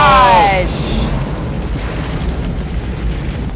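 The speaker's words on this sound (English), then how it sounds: "That explosion?" A loud explosion from the 1996 tornado film Twister opens with a heavy burst, then fades into a long, rumbling roar.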